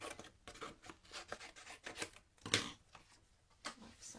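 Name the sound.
cutting a piece of white card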